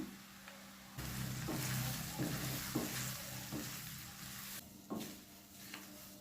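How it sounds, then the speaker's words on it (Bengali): Soybeans with a little turmeric frying in oil on a high gas flame, a steady sizzle with occasional stirring scrapes close by. "এবার আমি সয়াবিনগুলো গ্যাসটাকে হাই ফ্লেমে রেখে 3 থেকে 4 মিনিট ভেজে নেব"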